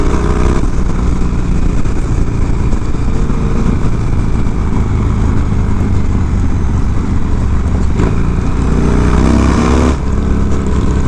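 A 1992 Harley-Davidson FXR motorcycle engine rumbles steadily while riding on the road, a loud, continuous low drone with slight pitch shifts as the throttle changes.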